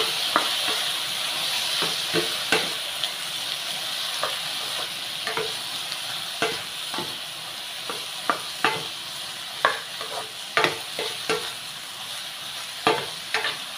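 Sliced sponge gourd (patola) frying with eggs, garlic and onion in a little oil: soft continuous sizzle with frequent regular scraping and tapping stirring strokes, close by.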